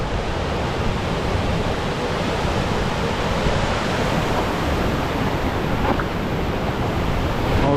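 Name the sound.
rushing river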